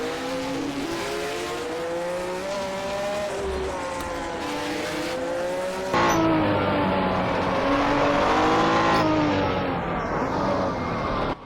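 Alpine race car in a racing video game, its engine droning steadily at high revs with pitch climbing and shifting, tires squealing now and then, loud and close with no talk.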